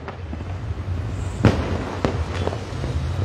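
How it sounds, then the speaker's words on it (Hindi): Fireworks and firecrackers bursting over a city during Diwali in Una, with a few distinct sharp bangs standing out from a steady crackling, rumbling backdrop of distant celebrations. "जो लगातार पटाखे हैं वो फोड़े जा रहे हैं"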